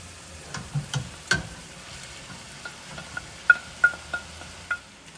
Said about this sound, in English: Now we're going to add 1 pound of ground beef and 1 pound of the sweet Italian sausage.